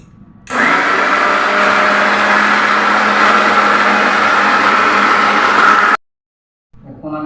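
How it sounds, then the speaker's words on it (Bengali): Electric blender whirring loudly and steadily as it grinds dosa batter, a continuous high-pitched motor roar lasting several seconds before cutting off abruptly, followed by a brief quiet pause and faint handling noise. "এভাবে ব্লেন্ডার করে নিয়ে যাবো"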